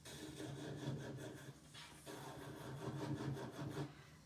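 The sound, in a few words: buffing fingernails with a nail buffer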